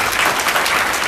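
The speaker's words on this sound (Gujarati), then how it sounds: "એને માટે એક જોરદાર તાળીઓથી" A school audience at a village primary school function gives a brief burst of dense, steady applause, filling the moment alone with no voices over it.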